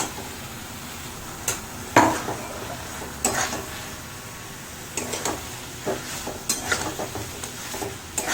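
Potatoes being stirred in a frying pan for a no-onion, no-garlic Bengali mushroom dish, with a soft sizzle under repeated scraping strokes and a few sharp clanks of the spoon against the pan.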